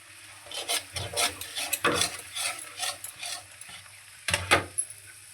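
Cashew paneer gravy is stirred in a pan at home, with repeated soft scraping and rubbing strokes of a spoon against the metal, a faint sizzle beneath, close and quiet.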